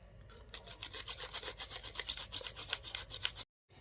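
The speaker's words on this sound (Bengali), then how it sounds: "এবার আমি ব্রোকলিটা ঘষবো।" Broccoli is rubbed against a hand grater in a rapid run of rhythmic rasping strokes, close and clear, stopping abruptly at the end.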